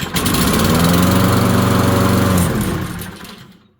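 A lawn mower engine fires on a single pull from a cold start, then runs with a loud, steady drone for about two seconds before cutting out and fading to silence.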